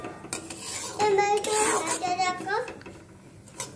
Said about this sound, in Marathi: तर हा रवा भाजून घेणार आहे, तेलात भाजून घ्यायचा आहे.